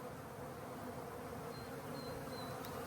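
Honey bees hum in a steady, close, dense drone during a spring hive inspection, continuous and even throughout, with no talking.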